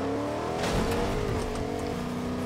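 A car engine in the Fortnite video game revs up loudly, rising and falling briefly over a steady engine drone, with no talk.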